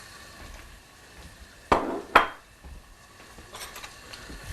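Pots and metal utensils in a home kitchen while a roasted red pepper sauce cooks, two sharp clanks close together standing out over a low kitchen background with faint lighter clinks afterward.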